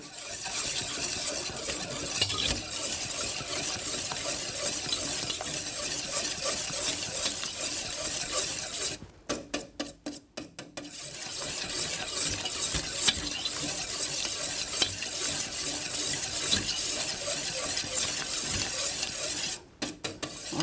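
Steady, close scraping and rasping of a utensil stirring thick vegan coconut cream frosting in a pan, continuous for most of the stretch with two brief pauses, no talking.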